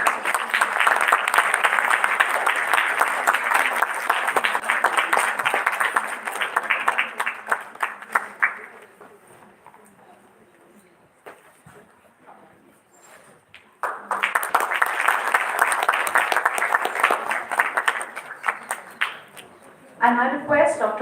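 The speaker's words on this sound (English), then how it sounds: "Please give him a huge round of applause." Large audience applause at a felicitation ceremony on a dental clinic livestream, loud sustained clapping that fades into a quieter gap with faint voices, then swells again before a brief sharper burst.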